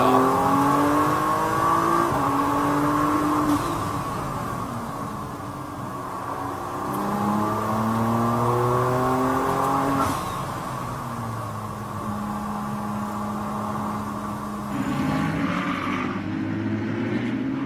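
Onboard, a Ferrari Challenge race car engine drones steadily while cruising around a circuit before the race start, its pitch rising and falling through gear changes, loud and continuous with a brief lift and shift near the end.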